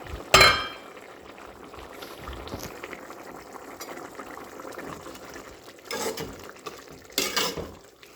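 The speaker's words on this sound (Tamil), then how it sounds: "நல்லா கொதிச்சிட்ருக்கு." Mutton keema simmers in a pot, a steady low bubbling near at hand, with a few sharp clatters of the lid or utensil against the metal.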